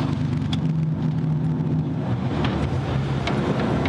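A car on a test drive turning right, heard from inside as a steady low engine and road rumble with some wind noise, continuous and even throughout.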